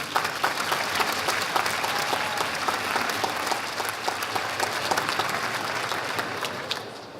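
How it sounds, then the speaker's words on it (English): Sustained, dense applause from a large audience at a community college commencement ceremony, even and continuous for several seconds. "So please give them a round of applause."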